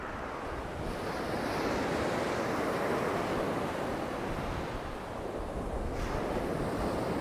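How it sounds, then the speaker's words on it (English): Surf breaking steadily on Torrox Beach in Andalusia, Spain, a continuous broad wash of waves roaring close by with some wind buffeting the microphone and no voices. "There's a beautiful beach, the Torrox Beach."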